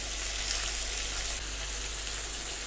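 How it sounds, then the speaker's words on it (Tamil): Raw banana (plantain) pieces fry in hot oil, making a dense, steady sizzle with a fine crackle that runs unbroken and close, with no voices. "இப்போ நம்ம கட் பண்ணி வச்சுருக்க ரா பனானா வாலக்காய் வந்துட்டு ஆயிலில் சேர்த்துடலாம்."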